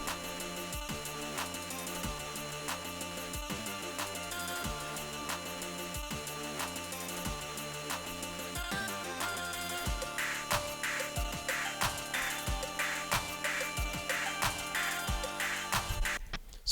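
Layered saw-based synth parts programmed into a modern rock mix, buzzing bright tones pulsing in repeated patterns with a low synth underneath, a driving rhythm entering partway through, steady and dense with no talking.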